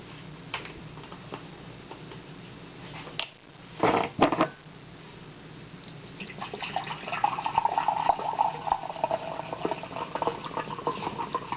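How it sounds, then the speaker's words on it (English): White vinegar, five cups of it, pours steadily into a pot of zucchini relish being canned at home, a continuous liquid splash that builds and thickens toward the end, with a couple of brief louder knocks midway. "Our last ingredient is 5 cups of white vinegar."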